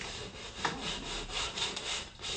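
A stiff foam touch-up applicator scrubbing gesso onto a painting, a steady close rasping rub in uneven back-and-forth strokes, moderately quiet with no talk.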